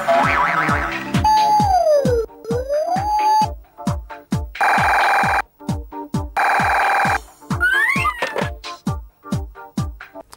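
A telephone rings with an incoming call on a Persian TV comedy series. An electronic ringtone plays in loud, repeated bursts over a steady pulsing beat, with gliding tones between them.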